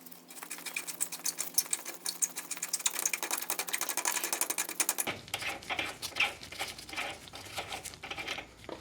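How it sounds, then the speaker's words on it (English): A jam nut spun off the steering tie rod of a 1994–1997 Honda Accord, making a dense, rapid metallic rattle that runs throughout and turns coarser and lower partway through. "Then spin the jam nut off."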